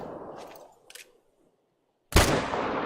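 A modern hunting rifle fires once in The Hunting Lodge, one loud sharp crack with a lingering echo, preceded by a few faint mechanical clicks after a stretch of quiet.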